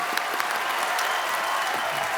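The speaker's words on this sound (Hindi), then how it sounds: "जोरदार तालियां इनके लिए" Enthusiastic studio audience applause on a Hindi comedy talk show, a dense, steady wash of clapping throughout.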